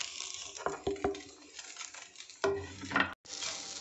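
Spices going into a pan with chicken and being stirred for a bride paratha filling, with scraping spoon strokes and light clinks against the metal pan over a soft sizzle, one louder burst of stirring near the end.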